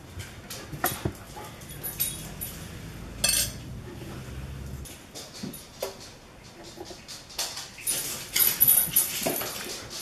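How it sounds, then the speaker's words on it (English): Dogs bark and whine excitedly in the background of a kitchen where strawberries and apples are being cut, with clinks of utensils and dishes mixed in, the barking rising in bursts toward the end. "those dogs going like crazy behind us"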